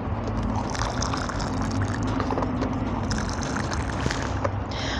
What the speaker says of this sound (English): add some boiling water.